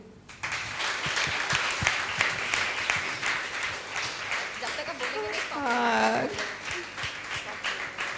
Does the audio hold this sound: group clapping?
yes